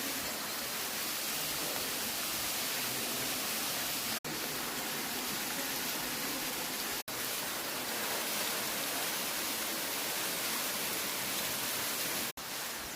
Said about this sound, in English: And that's Wildcat Canyon Waterfall.